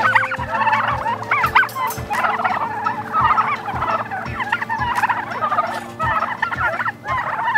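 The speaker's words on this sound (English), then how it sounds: "This is the first time we've raised turkeys for Thanksgiving." Pasture-raised turkeys on a desert farm gobble in repeated overlapping bursts, loud and close, over a steady low background hum with no one speaking.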